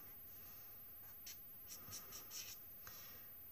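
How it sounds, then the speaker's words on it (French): Felt-tip ink marker colouring roughly on shrinking plastic, a few quick light scratchy strokes clustered in the middle, faint and alone in a quiet room. "c'est une encre, hein, je colorie un peu grossièrement"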